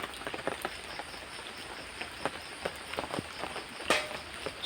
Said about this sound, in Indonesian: Suasananya hujan sekali.